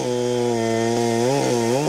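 A chainsaw runs steadily at high, loud revs while cutting holm oak wood in an oak woodland during winter, with brief pitch dips as the blade bites into the log.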